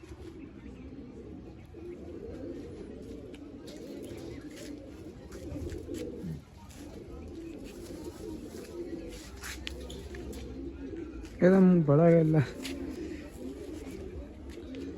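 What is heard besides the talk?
pigeons cooing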